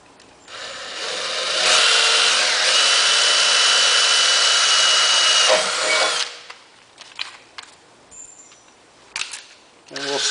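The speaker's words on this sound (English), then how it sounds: "we're going to start with a little pilot hole here" A power drill bores a pilot hole into a VW Transporter Doka van bumper, a steady loud whine lasting about four seconds, then cutting off into quieter handling clicks and shuffling.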